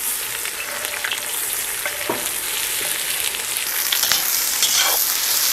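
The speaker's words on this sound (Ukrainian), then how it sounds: "Тепер це максимально ароматне масло ми закладаємо нашу цибульку." Onion sizzles and fries in aromatic oil inside a cauldron, a steady bright crackling hiss with occasional stirring scrapes and pops, close and continuous without talk.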